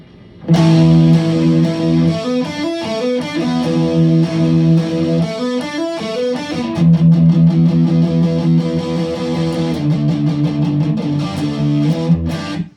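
A distorted electric guitar plays a chugging power-chord riff, loud and up close, repeating its pattern with brief changes, no talking.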